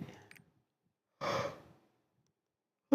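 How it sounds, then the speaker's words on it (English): A person yawning, a breathy exhale rising and fading in the middle of a quiet stretch, bracketed by brief voice fragments. "Oh, I'm yawning."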